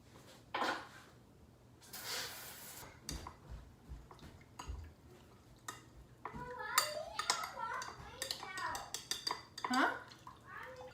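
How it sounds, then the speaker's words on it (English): Cornstarch is stirred into a stir-fry sauce, with utensils clinking and scraping against a dish in short bursts. People talk over and between the stirring. "I'll add 1 tablespoon of cornstarch. We'll mix it together."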